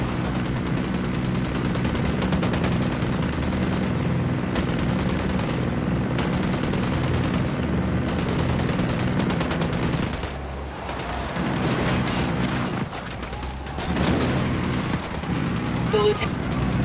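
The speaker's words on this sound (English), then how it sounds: "Shots fired." Sustained gunfire in the video game Ghost Recon Wildlands: dense, continuous bursts of automatic weapons and rapid shots filling the scene, briefly dropping off twice before resuming, with game voices speaking over it.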